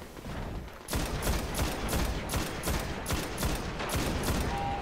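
Dense, loud rapid gunfire from the Destiny video game on Xbox One, a sustained volley of shots that starts abruptly after a second of quieter game sound and continues with no talking.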